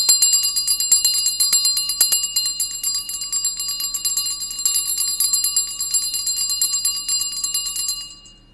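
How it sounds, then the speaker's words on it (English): A metal bell marked with a pagan protection sign jingles continuously in a room, a bright, dense shimmer of rapid strikes that holds steady for about eight seconds before fading out, with no talking. "I think it's a witch's bell."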